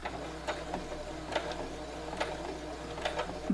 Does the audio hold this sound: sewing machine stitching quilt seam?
yes